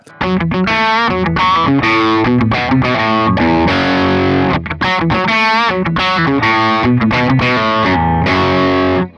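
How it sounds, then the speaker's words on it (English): A loud, heavily distorted electric guitar plays a driving riff continuously, with thick sustained chords and rhythmic breaks. "So I added some distortion and it sounded like that."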